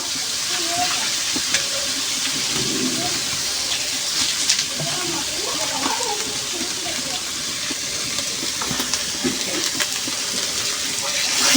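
Spiced masala sizzles and hisses steadily in a pan as a little water goes in for a koi fish and eggplant bhuna, with scraping stirs and bubbling throughout, close and fairly loud, no voices.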